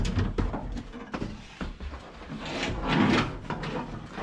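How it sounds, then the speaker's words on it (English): A door panel on a third-generation Camaro is pried and pulled off, giving scraping, rubbing plastic sounds and a few sharp pops and clicks. It is close and moderately loud, with no talking. "Let's go ahead and pull this door panel up."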